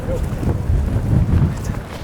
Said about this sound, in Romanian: Pe lângă că bate vântul, în rest totul e superb.